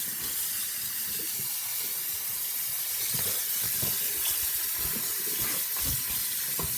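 Garlic mustard leaves are washed under a running tap, giving a constant hissing stream of water with light splashes and thuds as the leaves are handled, close and steady, with no speech.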